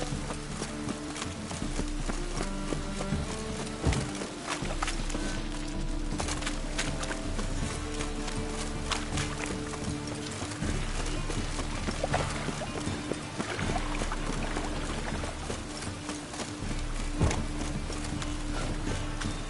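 Horse hooves clip-clop in a steady walking rhythm within a fantasy role-playing video game, repeated close hoof strikes continuing throughout over a dense layer of background game sound and ambience.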